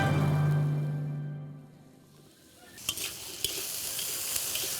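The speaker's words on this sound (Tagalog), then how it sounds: "Then I'll add in some oil. Lalagay lang natin yung ating carrots at patatas." Carrots and potatoes frying in oil for Menudong Imus: a low hum fades to a near-silent lull, then a bright, hissing sizzle rises, broken by a few sharp clatters of stirring.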